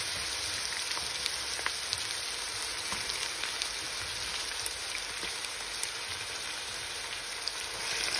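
Onions frying in a pan for chicken biryani, a steady close hiss and sizzle with tiny crackling pops throughout, even and moderately quiet, with no one talking.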